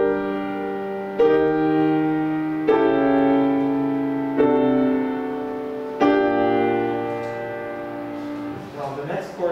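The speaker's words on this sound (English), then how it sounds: "I'm going to play on the piano here." Piano chords struck one after another, about six sustained block chords with clear attacks roughly every second and a half, ringing alone with no talking over them.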